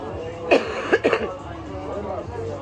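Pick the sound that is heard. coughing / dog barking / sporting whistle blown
coughing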